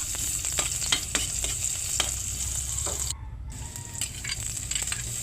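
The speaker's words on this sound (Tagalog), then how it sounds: "first ato sang igisa ang ahos ug ang sibuyas" Garlic and onion sauté in hot oil in a pan, a steady close sizzle broken by frequent scraping clicks of stirring, with a brief quieter gap partway through.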